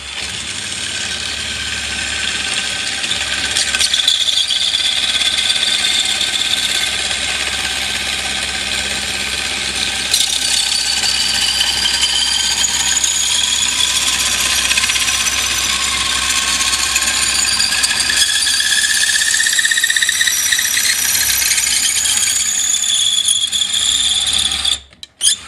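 Red cedar being machined into a 5/16 dowel with a dowel-making tool, a loud, steady whirring, ratcheting cut that runs for about 25 seconds without a break, then stops abruptly at the end.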